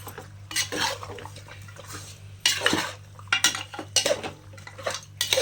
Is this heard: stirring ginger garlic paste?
yes